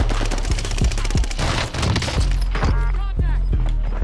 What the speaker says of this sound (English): He's shooting the whole wall